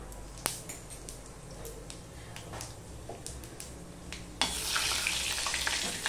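Whole spices crackle and sizzle in hot mustard oil left over from frying rui fish, a quiet steady fizz with scattered pops, then a sudden louder, brighter burst of frying partway through.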